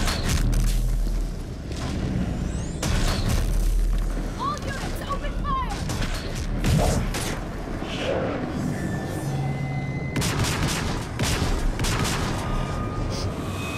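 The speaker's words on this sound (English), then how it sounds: "That was a Krogan with a shotgun." A Krogan fires a shotgun during a Mass Effect 3 battle, setting off a burst of heavy blasts amid scattered gunfire and explosions. Several loud booms are separated by brief gaps, with a voice speaking over the combat.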